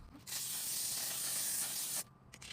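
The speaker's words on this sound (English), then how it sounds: "Now let's spray the life out of my face." Face mist sprayed from a skincare bottle gives one steady two-second hiss, close and loud, then stops, followed by a couple of brief softer puffs.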